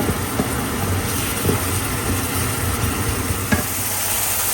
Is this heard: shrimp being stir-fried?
yes